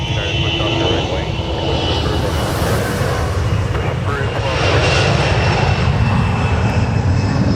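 Loud, steady roar of airliner engines at Minneapolis–St. Paul airport, a broad continuous rumble with a rising jet whine partway through, while people talk over it.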